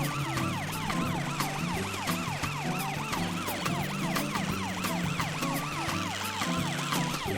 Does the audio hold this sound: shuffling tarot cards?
no